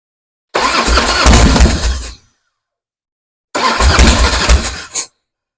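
Thirty-year-old Harley-Davidson motorcycle, unused for over ten years, cranking twice in loud, close bursts with a silent gap between, the second ending in a short extra pop, without firing into a steady run.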